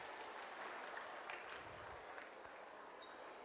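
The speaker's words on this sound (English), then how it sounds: "Give him a nice round of applause." A crowd claps for a grower at an outdoor giant vegetable weigh-off at Pumpkinfest, after a watermelon weighed about 97.5 pounds. The applause is fairly faint and scattered, running steadily for a few seconds.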